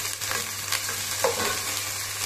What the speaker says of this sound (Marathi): आता हे चांगलं परतून घेऊया। कांदा चांगला भाजून घेतलेला आहे त्याच्यामध्ये।